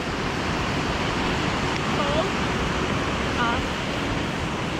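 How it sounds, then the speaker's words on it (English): Mountain meltwater rushing straight down a slope near Edith Cavell Meadow in Jasper National Park, a loud, steady broadband roar close by, with a brief spoken word over it. "Water is coming straight off the mountain."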